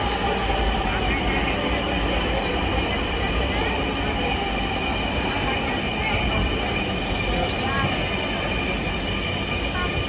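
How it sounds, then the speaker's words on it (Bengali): A metro train pulls into a station with a loud, steady rumble and rolling wheel noise that fills the whole stretch. "চলে আসলো মেট্রোটা।"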